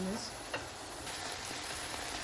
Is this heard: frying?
yes